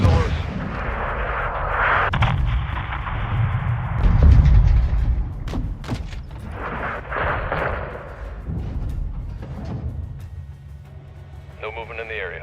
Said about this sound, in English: Missile loose.